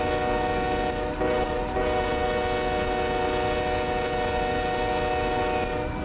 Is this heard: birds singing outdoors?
no